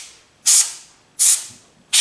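Compressed air sprays inside a computer case to clean out dust, three short, sharp hissing bursts in a regular rhythm, loud and close, with quiet gaps between them.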